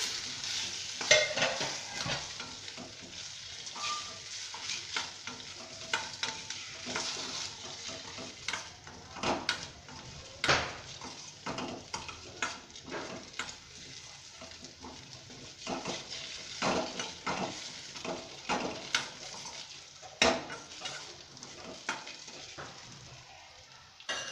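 Rice balls being stirred in a pan with turmeric and chili powder: continuous close sizzling broken by frequent irregular spoon clicks and scrapes against the pan, running on without speech.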